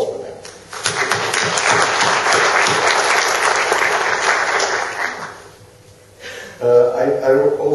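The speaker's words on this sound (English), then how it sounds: "to applaud for them." Audience applause for conference interpreters at a terminology policy event in Europe, a loud dense burst lasting about five seconds, then fading, followed by a speaker resuming talk.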